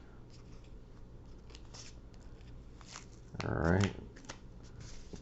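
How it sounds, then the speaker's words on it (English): Painter's tape tears off a cardboard shipping package in one short, loud ripping burst of about half a second, set among soft handling noises, with someone speaking briefly. "Alright, just about got this tape off."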